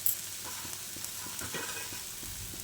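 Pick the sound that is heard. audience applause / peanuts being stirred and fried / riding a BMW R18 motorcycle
peanuts being stirred and fried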